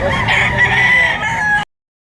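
A Boston Roundhead gamefowl rooster, ten months old, crows one long, loud call close by, with market bustle in the background.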